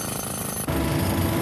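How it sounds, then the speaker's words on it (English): Concrete pavement being chipped out during partial-depth repair, a loud continuous pounding rattle of a jackhammer-like breaker that shifts to a heavier, denser tone partway through, with no talk. "The deteriorated concrete can now be removed by sawing and chipping"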